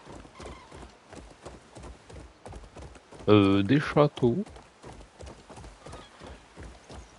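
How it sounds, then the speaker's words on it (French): Rhythmic hoof clip-clops from a horse in Crimson Desert, with a brief whinny partway through, while people chat over it. "Avec le cheval."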